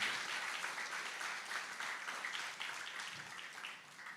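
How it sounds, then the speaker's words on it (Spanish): A church congregation applauding during a sermon, a fairly faint, steady wash of many hands clapping that gradually tapers off toward the end. "Denle el aplauso fuerte al Rey."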